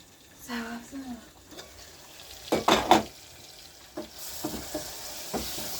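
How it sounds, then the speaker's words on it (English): Rice being turned and stirred in a pot as it cooks for supper, with soft scraping and a few louder bursts of stirring over a quiet simmering background. "I also like turning my rice when I'm cooking, so that it will cook all in once together"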